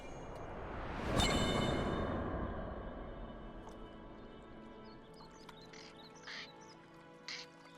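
Turtle ducks in the Avatar: The Last Airbender cartoon give soft, faint quacks after a loud splash-like burst, a few short calls scattered over a quiet, fading background by a pond.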